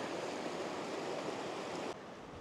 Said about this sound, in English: Beautiful little cascading falls